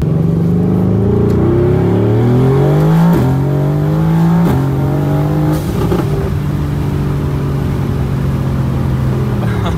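An 800+ hp Mercedes-AMG GT R accelerates hard through several gear shifts, its engine note climbing and dropping between changes, with turbo whoosh and exhaust crackle close and loud.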